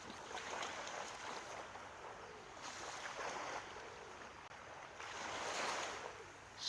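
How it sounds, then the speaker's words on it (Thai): Sea waves washing in at rising tide on Bangsaen beach on an early morning: a steady broadband wash that swells and recedes in slow surges, heard from a short distance with no voices over it. "ช่วงเช้านี้น้ำขึ้นครับพี่เล็กน้ำขึ้นมา"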